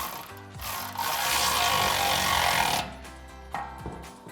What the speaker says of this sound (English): you can tighten this down with a 16 mil socket